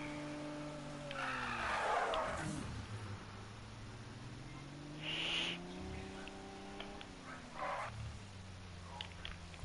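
Tires of a Lamborghini Aventador squeal and skid in short bursts during a sprint race in a racing video game, over a steady droning engine note that rises and falls, fairly quiet.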